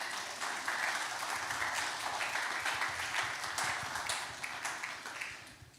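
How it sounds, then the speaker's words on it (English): At a youth church service, an audience claps for Jesus with dense, sustained applause that swells and holds for several seconds before easing off. "Everybody give a hand clap for Jesus."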